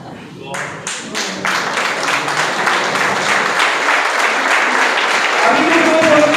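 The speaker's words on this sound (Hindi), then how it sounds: "एक बार खड़े होकर जोरदार तालियों से हम लोग रिहर्सल कर लेते हैं" A standing audience at an Ayurveda program in Hapur, Uttar Pradesh, breaks into loud, sustained clapping that swells steadily and stays dense throughout, with voices mixed in.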